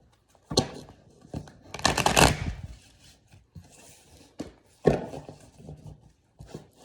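A deck of tarot cards being shuffled by hand, several quick riffling bursts and soft taps separated by short pauses, close and fairly quiet in a calm room.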